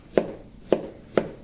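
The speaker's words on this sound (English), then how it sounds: "I'm gonna go ahead and cut my vegetables" Knife chopping vegetables on a cutting board while preparing lentil chicken soup, three sharp evenly spaced chops about half a second apart, close and clear with no talking.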